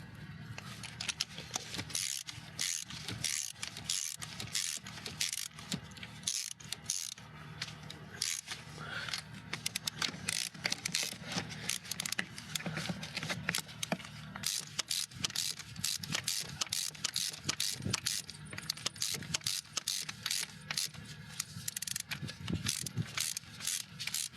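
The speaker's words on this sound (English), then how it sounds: "Threading a spark plug in carefully enough not to ruin it." Ratchet clicking in quick runs while a spark plug is threaded into a car engine in cold weather, close and fairly busy, with steady low background rumble.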